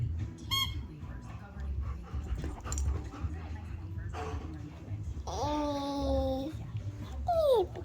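Near a baby, a dog gives high squeaky whimpers, including a long wavering whine and a short rising squeak at the end. People talk and the baby babbles over a low background hum.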